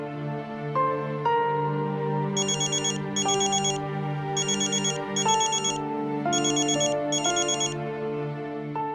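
A phone ringtone rings steadily in an indoor home setting, a repeating electronic melody with bright chiming bursts over a sustained tonal backing, loud and close, with no talking.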